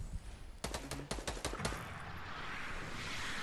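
A rapid burst of sharp gunshots rings out in Fortnite, about eight quick cracks in a row from a sniper rifle fight, fairly close, then trailing off into ambient noise.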